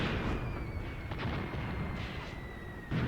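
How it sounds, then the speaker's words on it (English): Mortar fire in Graviteam Tactics sounds as several dull, booming impacts spread across a few seconds, with a sharper burst near the end, over a noisy battlefield rumble and a faint whistling tone. "Oh god, now they have mortars as well, huh?"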